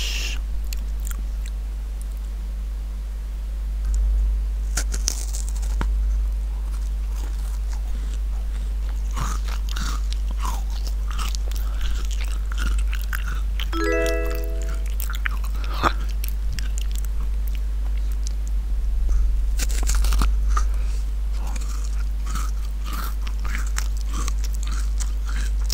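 Someone takes a bite of food and chews close to the microphone, with scattered crunchy bites over a steady low hum and a brief whistle-like tone midway; no speech.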